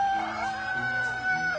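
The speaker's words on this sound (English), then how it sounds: "This is called Robo Rooster." A Robo Rooster toy alarm clock gives an electronic crowing call, a single drawn-out synthetic cock-a-doodle-doo tone that holds steady at moderate volume, close by.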